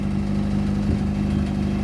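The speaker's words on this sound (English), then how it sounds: "Idling perfect." A turbocharged Honda Accord with an F23 engine, running rich, idles steadily up close, a low even rumble with a faint periodic pulse and no voices.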